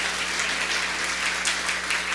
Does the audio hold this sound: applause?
yes